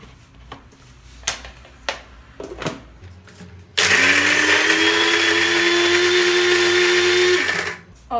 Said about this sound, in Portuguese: eu tenho medo do liquidificador quebrar